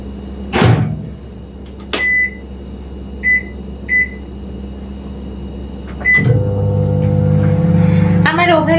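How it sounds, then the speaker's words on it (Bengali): A microwave oven heating a cup of vinegar water runs with a steady low hum, punctuated by a door thump and several short electronic beeps, then a louder fan-and-turntable drone starts near the end. "এটা আমি ওভেনে 20 সেকেন্ড গরম করতে দিব"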